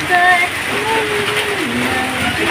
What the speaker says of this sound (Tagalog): Ulan.